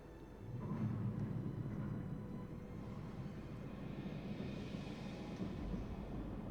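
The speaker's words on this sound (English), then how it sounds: "that shows the evacuation centre sending the train over to the dreadnought" A train leaves for the dreadnought in the video game Frostpunk with a low, steady rumble of rolling wagons that swells early on, then continues evenly at a moderate distance.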